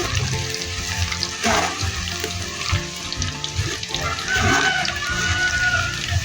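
Garlic frying in oil until crispy, a continuous dense crackling sizzle with bubbling and occasional stirring scrapes, steady and close throughout, with no talk.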